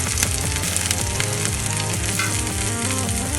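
Sliced onions and pinched curry leaves frying in oil in a pan, lightly salted: a loud, dense, continuous sizzle with a steady hum underneath and no pauses.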